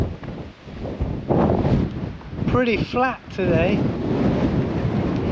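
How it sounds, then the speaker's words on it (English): Strong wind buffets the microphone on the clifftop coast path of South Pembrokeshire, loud gusty roaring rising and falling, with someone speaking briefly in the middle. "Easy, short day, very windy."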